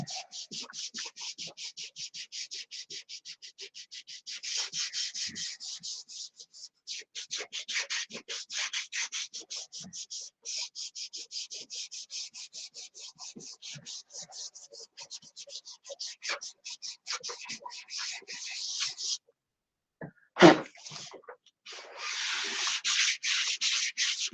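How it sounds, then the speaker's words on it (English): Steady, close rasping strokes sand down a primer coat in a fast back-and-forth rhythm that runs almost without a break, stops briefly near the end, then starts again with a single knock. "And do the sand out again. Another coat of primer."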